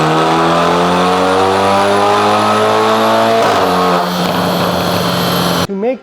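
BMW 330i four-cylinder engine with a custom exhaust, loud and close, pulling up through rising revs with a gear shift midway, then a sudden cut and a brief blip at the end.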